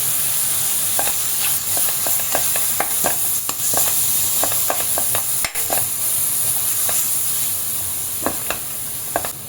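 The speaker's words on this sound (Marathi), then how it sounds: "आपल्याला घालायचा आहे हा पावडर केलेला मसाला कोरडा मसाला आधी आपण थोडासाच घालूया हे छान असं परतवून घ्यायचं आहे" Dry powdered masala sautéed in a pan for Shegaon kachori filling gives a soft continuous sizzle with repeated scraping stir strokes close up, irregular spatula taps scattered throughout, and no talking.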